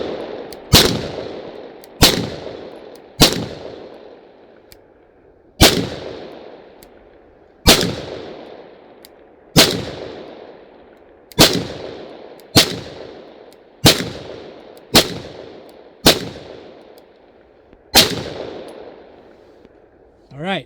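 Suppressed Beretta 92 pistol made in Italy firing about fourteen loud, sharp shots at an irregular, unhurried pace, each with a ringing decay, heard up close with no talking.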